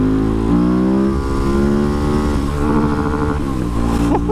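A KTM 690 SMCR single-cylinder supermoto with performance modifications and a throttle spacer revs up close and loud, pitch climbing and falling through several throttle blips before settling back.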